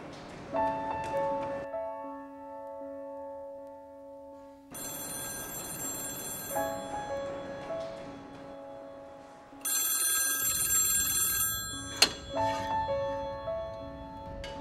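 A cell phone rings with a tinkly electronic ringtone in repeated bursts, fairly quiet, ending in a brief sharp click, with no talk.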